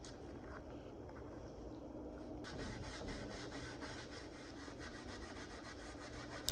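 Old finish being rubbed off a mid-century modern wood end table with acetone, a steady close scrubbing rasp that carries on without a break and grows slightly denser partway through.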